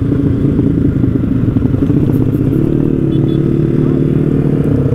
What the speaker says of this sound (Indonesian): Kita ngetes dulu nih motornya, udah lama nggak dipanasin.